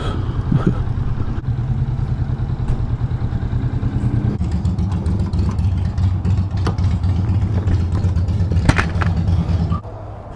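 A 2019 Kawasaki Vulcan S ABS motorcycle idles close by with a steady, low, throbbing rumble and a few light clicks, then cuts off abruptly near the end.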